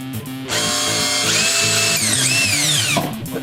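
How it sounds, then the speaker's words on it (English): A power drill bores a pilot hole in an aquarium sump, its motor whining steadily and shifting pitch as the bit bites, loud and close with no talking over it. "I'm gonna drill the pilot hole first."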